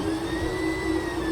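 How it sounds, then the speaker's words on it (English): An Ender 3 3D printer prints out a custom tool, giving a steady, even motor whine and hum that holds at a constant level throughout with no talk. "So this is my Ender 3 3D printer printing out a tool I just designed in Fusion 360"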